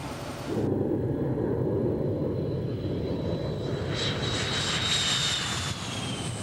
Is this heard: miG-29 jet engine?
yes